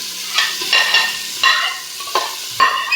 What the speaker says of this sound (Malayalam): സവോള ചേർത്ത് കഴിഞ്ഞാൽ നന്നായിട്ടൊന്ന് വഴറ്റിയെടുക്കാം.